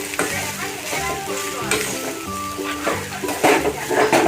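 Cooked rice being stirred in a hot pan for chitranna, with steady sizzling and a rhythmic run of scraping, clinking strokes up close, no voice over it.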